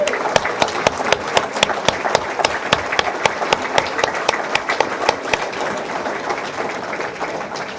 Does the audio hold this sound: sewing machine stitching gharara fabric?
no